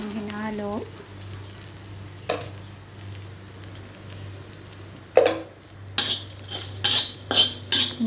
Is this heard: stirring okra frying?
yes